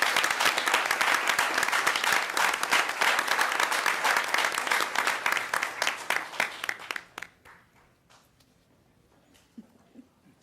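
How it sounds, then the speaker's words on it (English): An audience claps at a school district award ceremony, a dense, steady round of applause that thins to scattered claps and fades out near the end. "Please join me in a round of applause for these directors and their students"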